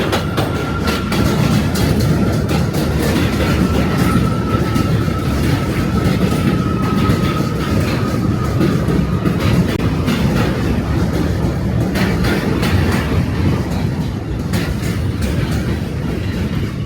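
An M subway train rolls by on elevated track in Brooklyn, New York City, with a loud, sustained rumble and clickety-clack from close range and a faint thin squeal of wheels running through the middle.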